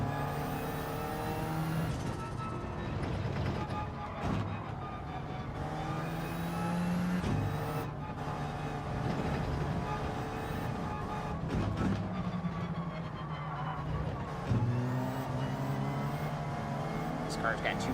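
A race car engine in a racing sim game drones steadily throughout, with gear shifts and pitch rises and drops across the stretch, close and continuous, with a voice talking over it.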